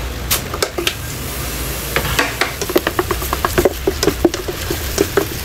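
Garlic and onion fry in a pan with a steady close crackle and sizzle. Sharp pops and spatters break through it, growing denser toward the end, and no one speaks.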